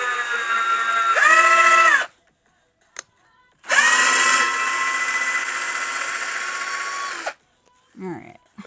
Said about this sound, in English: One more pre-drill here, and then we'll do all the screws.